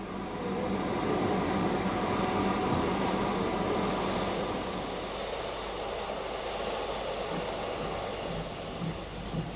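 A train on the Kent & East Sussex Railway rumbles past in a continuous broad roar with rhythmic low wheel clatter. The sound is distant and fairly faint, eases slightly toward the end, and carries no voices.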